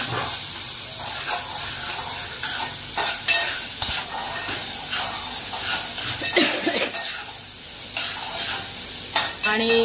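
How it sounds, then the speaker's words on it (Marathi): Green chillies and onion frying in a pan, a loud close hiss and sizzle with frequent scraping strokes of a spoon against metal, no voices over it. "तर मिरची आणि कांदा टाकून घेतले पहिला बघा"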